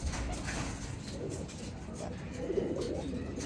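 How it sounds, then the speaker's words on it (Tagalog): A racing pigeon coos while held in hand, soft low throaty calls close by, with someone talking over them. "Ito na nga, hawak na nga natin itong racing pigeon."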